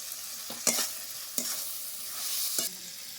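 Jackfruit curry with potato, green chillies and salt sautéing in a pan, a quiet sizzle broken by three sharp scrapes of a spatula stirring, close and without talk.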